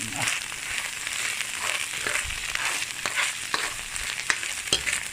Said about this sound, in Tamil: சின்ன உருண்டையாக வரும். அதை வறுத்து வெளியில் எடுப்போம்.